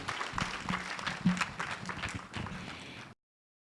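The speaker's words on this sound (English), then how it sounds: "Another round of applause" An audience at a business talk on eCommerce trends claps for a few seconds, a moderate scattered round of applause that fades and cuts off abruptly.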